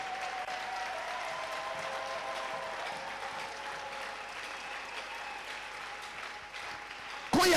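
A church congregation applauds steadily throughout, a continuous wash of clapping from a large crowd, with faint voices and a sudden loud burst at the very end.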